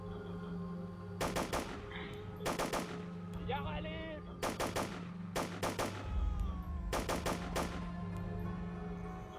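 Bursts of automatic gunfire in the video game Afghan: Forgotten War, four rapid volleys spaced a second or two apart, sharp and fairly close, with a low engine drone and brief game sounds between them.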